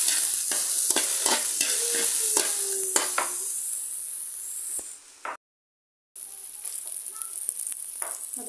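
Garlic, onion and ginger sizzle and fry in a pan while being stirred, with scraping strokes over a steady hiss, then a brief silence before the sizzling picks up again.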